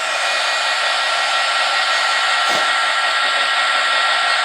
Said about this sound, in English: Get your heat gun good and hot.